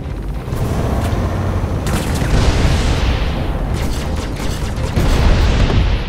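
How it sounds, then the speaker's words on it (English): A missile launches at a ship from a Drake Buccaneer fighter in the Star Citizen space game, producing a loud, sustained roar and rumble with booming surges and no clear speech. "let's fire a missile at him."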